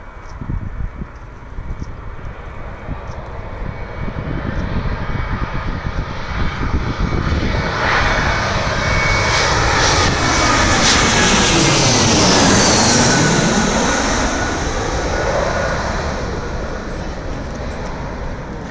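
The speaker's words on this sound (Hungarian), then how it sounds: "Kaptak egy elég kemény oldalszelet, ugye látjátok, hogy így oldalazva jött egy picit a repülőgép most is." An airplane lands at an airport in a strong crosswind. The engine roar swells and shifts pitch as the plane passes close by, then fades slowly, loud and continuous throughout with no talk.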